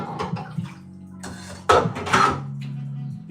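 Water poured from a cup into a pot of thick noodle lunch, a soft splashing pour with light kitchen clatter, close and fairly loud, swelling midway and tapering off.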